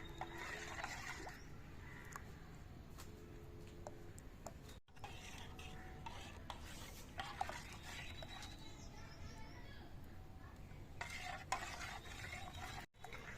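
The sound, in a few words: frying dudh pitha (Bengali milk rice cakes) in a pan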